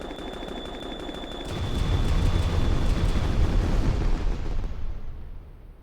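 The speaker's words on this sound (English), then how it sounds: "I've run out of fireworks" Fireworks go off in Kerbal Space Program, a dense, rolling barrage of booms and crackling blasts that swells loud after a quieter start, then thins and fades toward the end.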